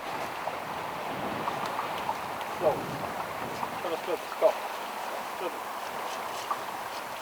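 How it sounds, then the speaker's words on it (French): Wind gusting across choppy water on a Cuban reef flat, a constant soft rush with small splashes and slaps, while someone speaks over it. "Le vent s'est levé et gêne mes lancers."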